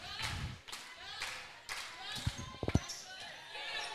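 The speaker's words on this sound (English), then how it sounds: "Got the claps going." A crowd at a women's volleyball game claps in a steady rhythmic beat, while a commentator's voice runs on top and a few sharp thuds ring out in the gym.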